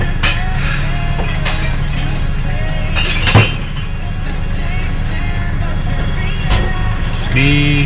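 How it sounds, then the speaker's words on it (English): Glass smashed outdoors: several sharp shattering crashes and clinks spread over a few seconds against a steady background rumble, fairly loud, with no talk. "Just me, James Morrison and Courtney smashing glass."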